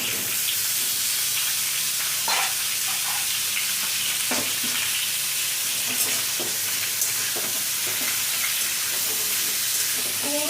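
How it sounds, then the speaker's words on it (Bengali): Pumpkin pieces fry in a pan alongside already-browned potatoes for a Bengali pumpkin-potato curry, giving a steady loud sizzle with a few sharp clicks of stirring scattered throughout. "কুমড়োটাও একটু ভেজে নেব"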